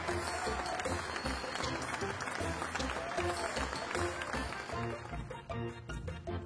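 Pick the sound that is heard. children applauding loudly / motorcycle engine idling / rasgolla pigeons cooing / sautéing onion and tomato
children applauding loudly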